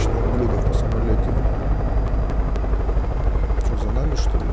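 An aircraft drones continuously nearby in Far Cry 5, a loud steady engine rumble with rotor-like pulsing throughout, with someone talking over it.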